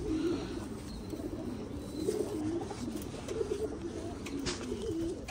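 Pigeons coo repeatedly in low, throaty phrases amid a steady background hum, with a few faint higher chirps scattered through.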